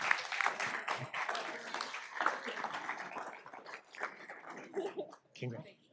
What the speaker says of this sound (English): One last round of applause for Claire.